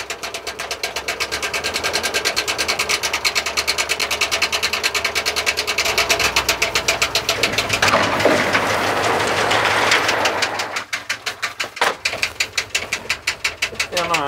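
A rough, poorly running engine in an old vehicle being driven, giving a dense, rapid mechanical ticking and clatter for a long stretch. It swells into a louder, broader roar partway through, then settles back into uneven tapping near the end.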